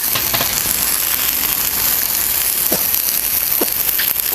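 Steady, loud sizzling hiss of oil frying on a hot griddle, with a few sharp pops and crackles breaking through near the end.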